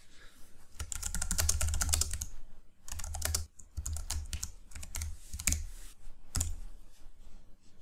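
Fast typing on a computer keyboard clatters in dense bursts of clicks, close and distinct, separated by brief pauses while text is entered in a Bible study program.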